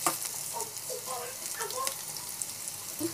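Pakoda fritters frying in hot oil, a steady soft sizzle with faint bubbling crackles, fairly quiet and close, with no talking over it.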